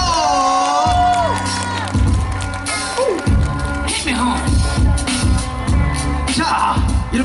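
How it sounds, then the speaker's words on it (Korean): Crowd at a 2018 national b-boy breakdancing competition in Bucheon cheering and whooping for a judge being introduced, loud and close, with shouts over booming event music throughout. "박수 주세요!"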